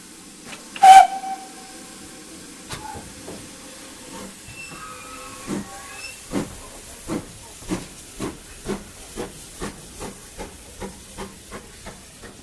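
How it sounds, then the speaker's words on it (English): A steam locomotive on the Dean Forest Railway gives a brief sharp whistle, then releases repeated bursts of hissing steam in a steady, quickening rhythm while taking on water. "Locomotive's now taking on water before reattaching to the train"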